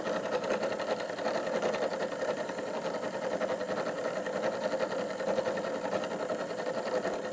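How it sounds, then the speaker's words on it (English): A milling machine passes a workpiece back and forth across a rotating cutter, giving a steady, close mechanical whir with a fine rapid chatter that holds even throughout, with no talking. "we just keep advancing back and forth as the work is being passed across a cutter"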